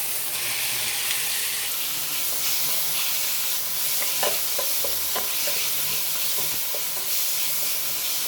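Pork for pinakbet sizzles steadily in a hot pan, a constant bright frying hiss with scattered small pops and occasional stirring scrapes near the middle.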